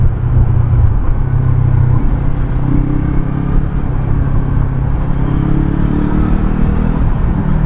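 A Yamaha MT-03 motorcycle pulls hard in fifth gear with a steady, loud engine drone and rising rumble, mixed with heavy wind noise from riding at speed.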